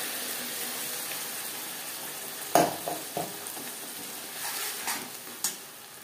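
Masala paste sizzling and frying with onions in a pan for Katla fish kalia, a steady low hiss broken by a few sharp stirring scrapes and spatters near the middle and end.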